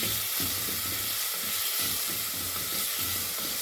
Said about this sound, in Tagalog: Igisa ko yung bawang, sibuyas.